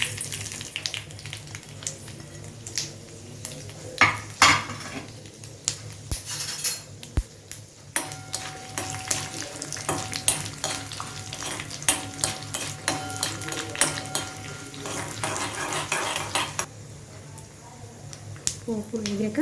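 Spices temper in hot oil in a pan for a sweet tamarind stew, a crackling sizzle broken by spoon clinks and scrapes, with a person talking through much of it.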